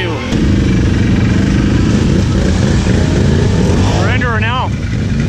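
Can-Am Outlander ATV engine droning loud and close on a hot summer day, a steady buzzing motor that runs throughout, with a brief voice sliding up and down near the end.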